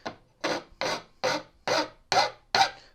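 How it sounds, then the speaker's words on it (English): File strokes rasping across the frets of a guitar fretboard during fret installation, seven even, close scraping passes at a steady rhythm with short gaps between them, no voices. "Now I'm filing down the fretboard, not up"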